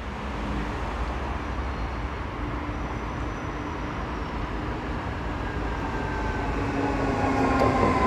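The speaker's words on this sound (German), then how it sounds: "Können wir bei der Einfahrt mal beobachten, wie der Kollege hier so langsam hier reinrollt" A train slowly rolls into a station near Düsseldorf, a steady close rumble of wheels on rails that grows slightly louder toward the end, with faint squeals and no voices.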